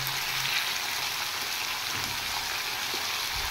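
Vegetables hitting hot oil seasoned with five-spice (panch phoron) give a steady, bright sizzle that carries evenly and close throughout, with no voices.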